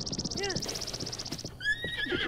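A horse in Zelda Breath of the Wild whinnies in a rising and falling call, and its hooves clip-clop steadily. A high repeating chime and other game sounds play along with it, and a voice speaks partway through.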